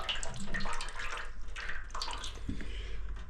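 Coolant pours and splashes steadily out of a GasGas motorcycle, close by, a continuous liquid gush with small gurgles and drips as the flow shifts.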